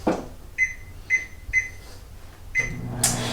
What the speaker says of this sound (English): So we're gonna do it in the microwave.